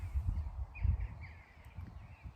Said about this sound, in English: I hope you guys can hear the birds and the wind in the background.